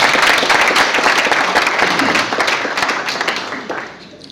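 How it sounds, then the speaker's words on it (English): An audience claps for young public speakers at an awards event held by Pakistan's ambassador in Rwanda. The applause is loud and dense at first, then thins and fades toward the end. "So let us give them a big clap."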